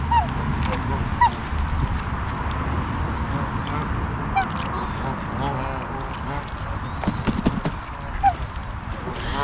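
Geese and other birds at a pond honk and quack in a busy, continuous chorus at close range, with scattered loud calls standing out over the general clamor.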